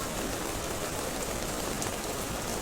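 Steady rain pours at an outdoor market in Mongkok, Hong Kong, a dense, even hiss of drops on surfaces that fills the whole stretch without pause or voices.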